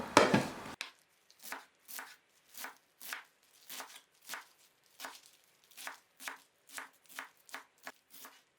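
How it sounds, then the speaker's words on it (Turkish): A knife chops spinach steadily on a cutting board, about a dozen evenly spaced crisp thuds in a regular rhythm, close and clear with quiet between strokes. "Ispanaklarımı çok ince doğramıyorum."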